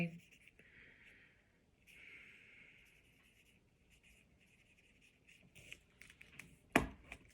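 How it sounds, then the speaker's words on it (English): Pen scratching across the paper of a journal, with soft intermittent strokes and scribbles running under quiet talk, then a sharper tap near the end. "I'm writing it down"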